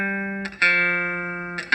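Three sustained electric guitar notes from a low-note 12-bar blues riff are played one after another, each ringing clearly before the next is picked.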